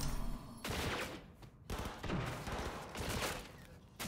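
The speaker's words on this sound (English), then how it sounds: "Whoa, I heard gunfire." Rapid bursts of gunfire in the video game Cyberpunk 2077: Phantom Liberty crackle in quick volleys, fairly loud, separated by short gaps.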